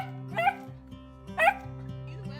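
A pet puppy named Winnie gives two short yipping barks about a second apart, close by, with a steady low hum running underneath.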